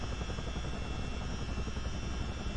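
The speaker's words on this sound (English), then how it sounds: "Another mission in the mighty CH47D for Microsoft Flight Simulator, thanks to Miltech Simulations." A CH-47D Chinook twin-rotor military helicopter from Microsoft Flight Simulator gives off a steady, loud rotor and engine drone with a fast low throb, unbroken and alone with no voices.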